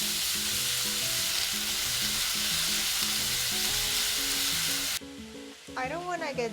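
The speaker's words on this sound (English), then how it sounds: "continue stir-frying" Continuous sizzling from a frying pan of stir-frying pork, cabbage and carrots for about five seconds over light music, then the sizzle drops and a voice briefly speaks.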